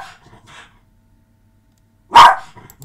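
A dog indoors gives a couple of faint soft yips, then after a silent pause one loud, close bark followed by a brief quieter trailing sound.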